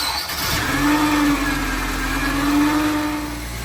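An Acura RSX engine cranks and catches, then settles into a steady mid-pitched idle that holds close and loud for a few seconds with no talking.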